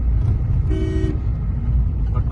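A car horn gives one short, bright honk close by over a low engine rumble in a vehicle being driven.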